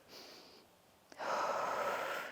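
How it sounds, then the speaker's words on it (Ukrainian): A deep inhalation during a breathing exercise in a home workout follows a faint airy lead-in and a small click, then a full, close, steady rush of breath lasting over a second. "Зроби, будь ласка, дих."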